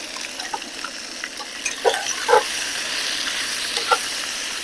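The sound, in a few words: stirring tallow as it renders in the pot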